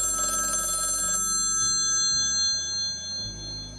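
An old rotary dial telephone's bell rings in a loud, bright metallic trill for about a second, then stops. Low, faint background noise continues on its own afterward.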